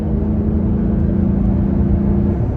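Toyota Tacoma engine and exhaust cruising steadily in third gear at around 3,000 RPM and 50 mph on bigger tires, a continuous low droning hum with no pauses, heard from inside the truck.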